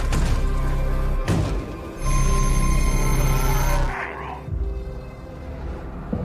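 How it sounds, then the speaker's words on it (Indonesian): An old landline telephone rings loudly in a tense horror film scene, its bell sounding in sustained bursts separated by short pauses, with background tension music. "tiba-tiba mendengar telepon berdering dan mengangkatnya"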